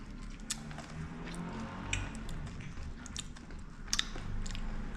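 Crunchy Fiorella Dubai chocolate being bitten and chewed close to the mic, with soft irregular crunches and squishy mastication noises over a faint room background.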